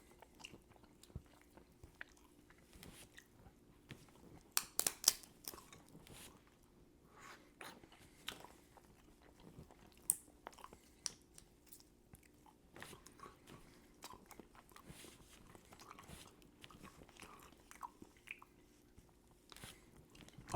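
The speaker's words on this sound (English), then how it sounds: "I wonder how much my munching is heard on the microphone" Close, quiet munching and crunching while eating a jumbo crab, with irregular bites and sharp cracks scattered through steady chewing and no talking.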